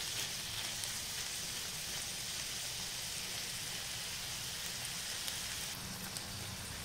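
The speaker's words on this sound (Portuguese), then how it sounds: "nós vamos deixar essa carne de boi fritando aqui também, dourando junto com as demais carnes" Beef frying in a pan while browning alongside other meats for yakisoba, giving a steady, dense sizzle that holds at an even level for the whole stretch with no talking.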